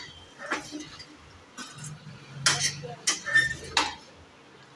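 Soybean momo filling being stirred and mixed with sauce in a pan, light scraping and clinks of a spoon against the vessel, with a few sharper taps near the end.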